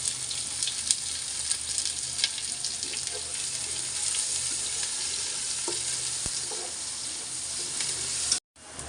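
Onions added to hot oil with dried chillies in a pan for khichuri, a steady dense sizzle and crackle close up with occasional stirring scrapes, cutting off abruptly at the end.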